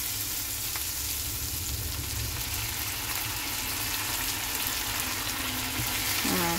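A little water goes onto cooked, fragrant spice paste in a hot pan, which sizzles and hisses loudly and continuously, like steady frying, close up with no talking.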